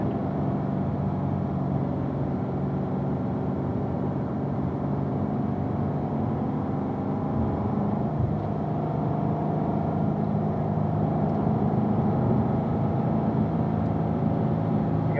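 A car driving on a racetrack at the Ron Fellows Performance Driving School, heard as a steady engine drone with slight throttle swells and no voices.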